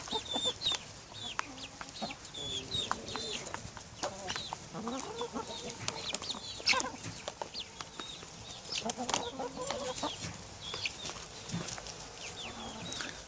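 Growing Sussex chicks cluck and chirp around a farmyard on a cloudy day, with frequent short overlapping calls near and far and a steady busy background of fowl activity.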